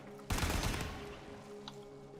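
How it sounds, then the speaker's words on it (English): Burst of rapid turret gunfire in a sci-fi video game: a dense, loud volley that starts abruptly, then fades under steady game music with a faint later pop. "A lot of turrets in this room"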